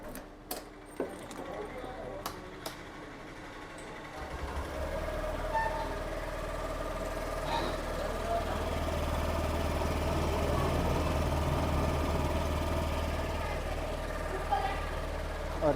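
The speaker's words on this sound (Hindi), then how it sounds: "तो अब आपको इसका एक बार एग्जॉस्ट साउंड भी सुना देते हैं।" Honda Activa 6G scooter with BS6 OBD2 engine idling close by, a steady low exhaust hum that starts about four seconds in after a few light clicks and holds evenly to the end, with faint background chatter.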